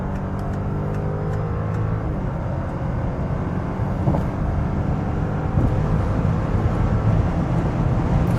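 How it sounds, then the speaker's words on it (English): A 2021 VW Touareg R plug-in hybrid accelerates hard in sports mode from highway speed, a steady, dense rumble of engine and road noise building slightly in loudness as speed climbs, with no voices over it. "So from 100 kilometers or 60 miles, we accelerate further out in the sports mode."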